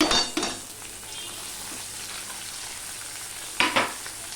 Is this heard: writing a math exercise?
no